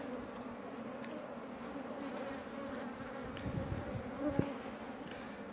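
A dense, steady buzzing of many honey bees that fills the whole clip, with no other sound standing out.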